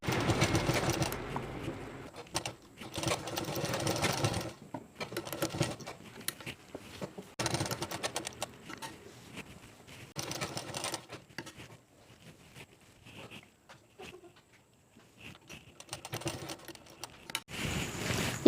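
A sewing machine stitches a zip onto a nighty in bursts of rapid mechanical chatter, close and fairly loud, broken by short pauses and quiet handling sounds.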